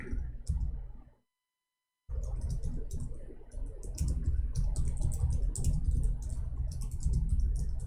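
Keys clatter steadily on a computer keyboard, a dense run of quick taps that stops for about a second and then carries on.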